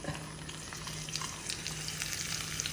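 Quiet, steady sizzling of sliced onions and curry leaves frying in hot coconut oil, with faint crackles and pops and occasional stirring.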